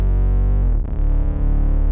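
Heavily distorted bass tone from the Slate Digital Infinity Bass plugin, a loud sustained gritty note with dense overtones that briefly dips and wobbles midway before holding steady.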